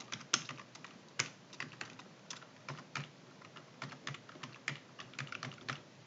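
Fingers typing on a computer keyboard in quick irregular bursts of clicks, close and fairly quiet, with no voices.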